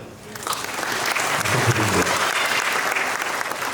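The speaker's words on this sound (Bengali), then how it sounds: "এবং তাদের জন্য আমরা ছোট্ট একটি করতালি দিতে পারি।" Audience applause at an exhibition opening ceremony at the Bangladesh National Art Gallery, a steady burst of many hands clapping that swells slightly and holds for a few seconds without talk.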